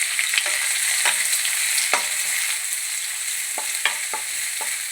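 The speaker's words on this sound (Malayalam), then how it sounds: "ഇഞ്ചി വെളുത്തുള്ളി വഴണ്ടി വന്നിട്ടുണ്ട്" Garlic and ginger sauté in a pan for a festive sadya masala curry, sizzling steadily in hot oil with a few sharp crackles and spatters popping through.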